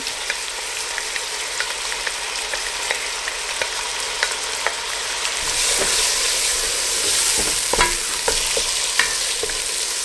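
Ginger, garlic, green chilies, tomatoes and onion fry in a pan for chicken curry, a close steady sizzle that grows louder partway through, with scraping stirs and no talk.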